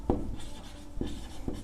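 Pen or pencil writing on paper during a Hindi maths lesson on cone volume, with a few short scratchy strokes close up and soft rubbing in between, no voices.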